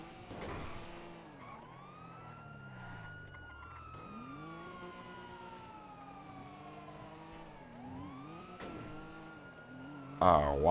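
Police car sirens in a video game pursuit after a jewelry heist, long sweeping wails layered over a droning engine, with short noisy bursts at the start and a loud burst at the very end.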